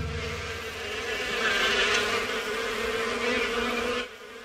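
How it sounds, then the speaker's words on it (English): Cartoon sound effect of buzzing bees: a steady, dense insect drone that stays loud for about four seconds and then cuts off abruptly. "It sounds like something buzzing. Buzzing bees!"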